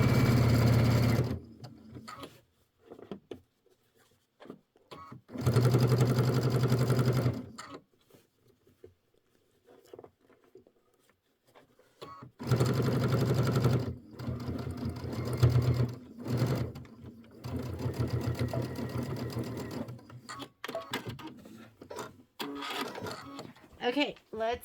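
Multi-needle embroidery machine stitching on a quilting project, a close, steady rapid patter running in long bursts that stop and restart, with a voice talking during the quieter gaps.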